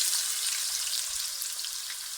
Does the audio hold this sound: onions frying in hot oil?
yes